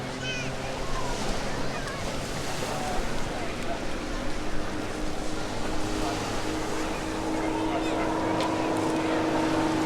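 A Grob Tutor light aircraft flies an aerobatic wing over at a seaside airshow in Eastbourne. Its engine gives a steady, distant droning hum under wind noise and ongoing commentary.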